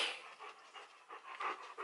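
Close, fast, breathy panting from a dog coming into the room, a rapid rhythmic pattern of airy huffs, fairly quiet, with no talking.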